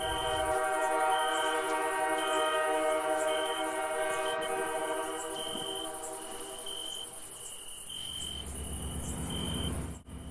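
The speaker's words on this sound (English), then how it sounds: "50505 leads GP 40-3402 and GP 40-2 number 427 with today's train from Detroit." A freight train led by an SD50 with GP40-3 and GP40-2 diesel locomotives passes on street-running track in Ironton, Ohio, with a long sustained horn blast and engine drone, steady and loud, under a layer of insect chirping.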